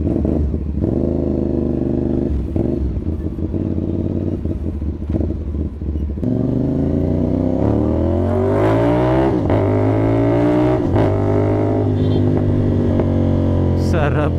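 A CFMOTO 450NK motorcycle with a cat-delete SC Project exhaust, fine-tuned, revving and pulling through gears on a ride, a loud, close engine note rising and falling with throttle blips.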